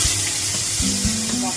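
Spice paste (masala) hits hot oil in a pan for capsicum paneer, bursting into a loud, close sizzle with a few stirring scrapes and clinks during a brief moment.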